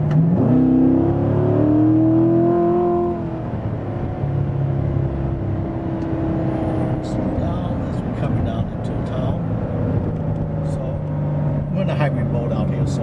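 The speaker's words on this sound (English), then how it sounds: "So you can hear the exhaust. I mean, it's pretty aggressive sounding." A 2016 Corvette Z51 3LT's exhaust rumbles steadily while driving, a loud low drone that revs up early, then settles into a sustained cruise with faint pops, heard with someone talking over it.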